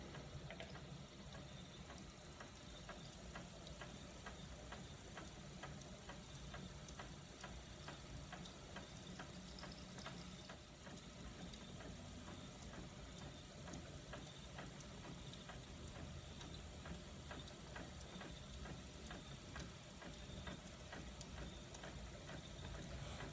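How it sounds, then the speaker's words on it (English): A spinning wheel spinning BFL wool into yarn, turning with a steady soft ticking rhythm over a quiet, constant whir, close and gentle throughout. "Please take a minute to enjoy the relaxing sounds of my spinning wheel"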